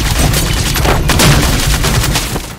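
Loud, dense bursts of gunfire fill a film scene, Lancers shooting Gabriel in quick overlapping cracks that fade away at the end, with no talking.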